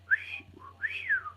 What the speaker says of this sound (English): That'd be his wee whistle then, Sky, right?